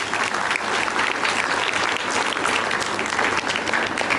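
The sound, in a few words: audience applause for the children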